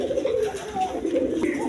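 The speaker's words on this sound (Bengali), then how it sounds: "এইখানে আরেক পেয়ার কবুতর আছে" Domestic pigeons at a breeding farm give soft, continuous low cooing for a couple of seconds, close by and steady, with faint background noise.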